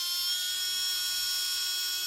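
Small electric screwdriver whirring steadily as it backs screws out of an Axial SCX24 RC crawler, a thin high-pitched motor whine held close and constant with no talk.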